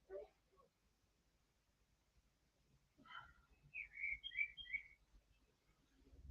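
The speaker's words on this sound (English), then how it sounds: "The bird chirps may be outside my window." Small birds in a neighbour's tree outside a window give a short run of bright chirps, faint and somewhat distant, after a few soft background noises.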